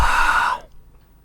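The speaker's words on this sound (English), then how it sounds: "Let me breathe on it." A single close, breathy exhale, as someone breathes onto a small camera lens to clean it, lasting about half a second before quiet.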